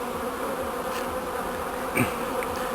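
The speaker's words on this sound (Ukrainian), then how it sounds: "Ну ось останні бджоли залишають місце, на якому сидів рій." Honeybee swarm dispersing as the last few bees leave the spot where it clustered, giving a steady, fairly loud insect buzz throughout with a closer bee passing briefly near the end.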